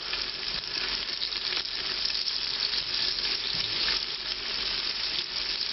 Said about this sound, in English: back over here with the onions, they've been cooking for 5 or 6 minutes now